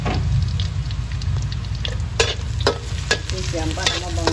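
Ginger and onion sauté in a pan for chicken tinola, giving a continuous close sizzle broken by sharp spatula scrapes and clicks that come more often toward the end, with no talking.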